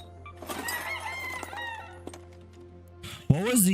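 Chicken clucks and a crowing-like call from the game ARC Raiders, faint and brief amid game sounds, ending in a louder squawk.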